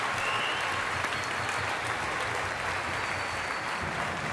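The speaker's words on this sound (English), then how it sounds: "kids, applaud each other for the awards that you guys all got in recognition." Middle school students applaud one another at an awards ceremony, a steady even wash of clapping from a large group that holds at a constant level throughout.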